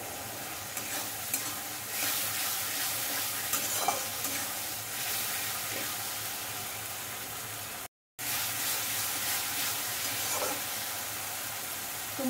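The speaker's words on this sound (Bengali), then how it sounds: "এইভাবে মশলাগুলো কিছুক্ষণ একটু নাড়াচাড়া করব।" Spices sizzle and fry in a pan while being stirred, a close, steady hiss with soft scraping strokes, briefly cutting out once, no talk.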